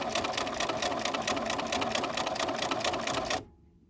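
A sewing machine runs steadily at close range, stitching quilting cotton layered with Soft and Stable foam stabilizer. Its rapid, even mechanical chatter continues for several seconds, then stops abruptly, leaving near silence.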